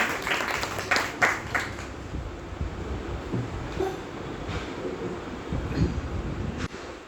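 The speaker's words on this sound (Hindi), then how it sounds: "एक जोरदार ताली हो जाए डॉक्टर भारत भूषण यादव जी" An audience at a Gandhi Jayanti seminar in Varanasi claps for an arriving speaker, a dense, steady patter of applause with sharper bursts early on, fading out just before the end.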